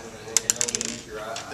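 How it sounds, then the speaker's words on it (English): Screws being turned out to free a Dell ATX power supply from a computer case, heard as a quick run of small metallic ticks and clicks close by, with faint background hum. "we can go ahead and unscrew our power supply from our case."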